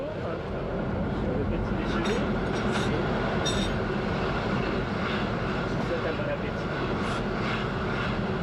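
A train of vintage carriages travels through the Alps across Austria and Switzerland, producing a loud, steady, continuous rumble with no break.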